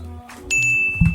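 A single bell ding rings out, bright and ringing with a sustained tone, amid low background noise and a faint thud near the end.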